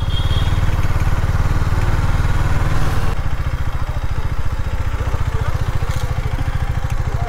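A motorcycle engine idles close by with a steady, low, rapid putter that holds evenly throughout, shifting slightly in tone midway.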